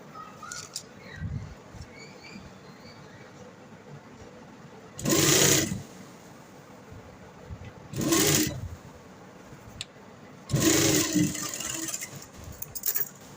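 Domestic sewing machine stitching the sleeve onto a kurta: three short bursts of close, whirring mechanical stitching separated by quiet pauses with light handling sounds.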